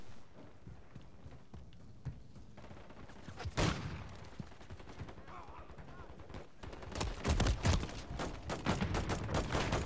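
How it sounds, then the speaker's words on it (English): Video game gunfire crackles in scattered shots, then swells into a heavier burst near the end, mixed with running and other game noise. "They just put me right in the line of fire. I don't even know who's shooting me"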